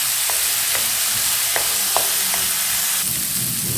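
Vegetables seasoned with fish sauce stir-fry in a hot pan, producing a loud, steady sizzle close by with a few light scraping clicks from stirring.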